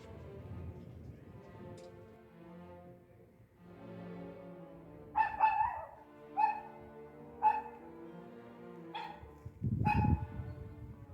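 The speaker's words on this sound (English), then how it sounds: "I hear a tiny woofster." A small dog yaps several times in short, high-pitched barks with brief whimpers between, fairly close, over a quiet background.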